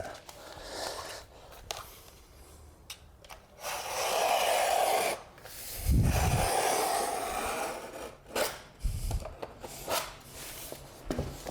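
A knife scores and snaps plasterboard in several rasping strokes, close and fairly quiet, with short scraping passes and a couple of dull thuds between pauses.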